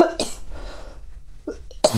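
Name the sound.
cough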